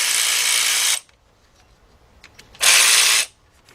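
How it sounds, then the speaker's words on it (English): A cordless ratchet fitted with an 8mm socket loosens a hose clamp on a Honda engine, two loud whirring bursts, the first about a second long and the second shorter after a pause, close up with no talk. "I'm just going to loosen that clamp up"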